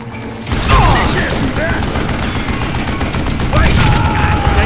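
Gunfire and weapon mechanics in the Western shooter Call of Juarez: Gunslinger, set in Guadalupe Canyon in 1881: dense, loud bursts of shots with metallic clicks and ricochet whines that run continuously throughout, with a reload in the middle of the action.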